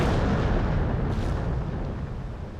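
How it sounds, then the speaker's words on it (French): A huge, sustained explosion of the French flagship L'Orient in a naval battle, rendered as a dense, loud, rumbling roar filling the whole stretch, fading only slightly toward the end. "c'est l'explosion du vaisseau amiral français l'Orient"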